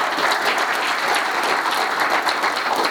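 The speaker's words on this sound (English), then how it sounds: "Can we have a round of applause for our sponsors" Steady, dense audience clapping at an SME manufacturers and exporters summit inauguration in Nashik, a continuous patter of many hands filling the hall for a few seconds without talk.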